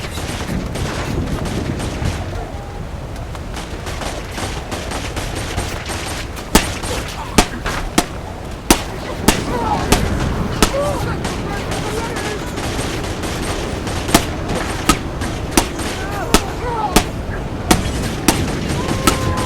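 Saints Row IV gunfire crackles as a steady stream of sharp, repeated shots, growing denser and louder in the second half over a busy background of combat noise.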